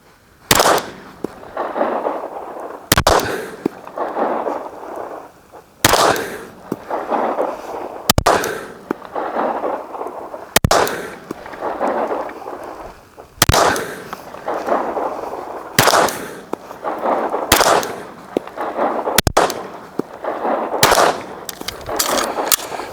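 Ten sharp, loud pistol shots from a Smith & Wesson M&P Carry Comp fired at a 20-yard B8 target on a range, spaced at uneven intervals of one to three seconds.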